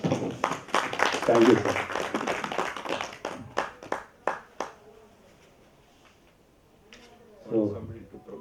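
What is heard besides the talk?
applause for the secretary's report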